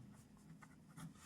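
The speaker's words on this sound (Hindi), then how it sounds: "तो हम यहाँ पास लिख देंगे" A pen scratches across paper in short, faint strokes with small pauses between them, quiet and close, during a math lesson for students.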